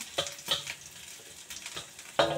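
Dried shrimp and dried scallop stir-fried in a wok give brief bursts of sizzle and scraping stirs, several separate strokes close by, with no talk.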